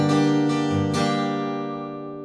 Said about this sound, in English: Now let's go ahead and take a look at the right hand strumming pattern, which sounds like this.